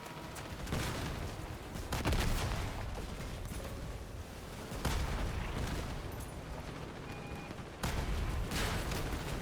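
Vehicle-mounted guns fire continuously in Crossout, a dense, loud barrage of heavy shots and booming impacts with a few sharper blasts standing out.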